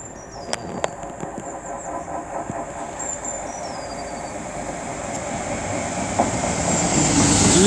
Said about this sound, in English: now approaching is 800-035, working the 1358 Great Western Railway service to Hereford from Oxford